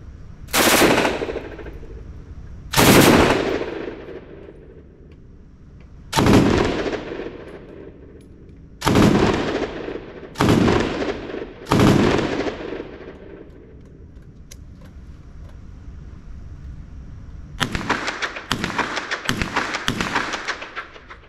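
Tripod-mounted machine gun fired while aimed through a Gran thermal imager with a monitor, with loud booming bursts at irregular intervals outdoors and a quick string of rapid shots at the end.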